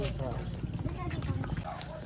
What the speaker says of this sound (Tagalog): Oo nga, kabayo.